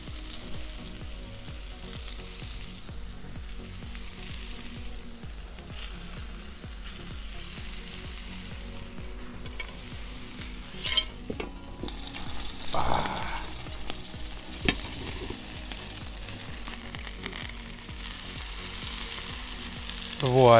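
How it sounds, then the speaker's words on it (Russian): Wild boar cutlets and potatoes reheating in a frying pan give a close, continuous sizzle with a steady crackle, broken near the middle by a few brief clatters of utensils. "отправляем подогреваться котлеты вместе с картошкой"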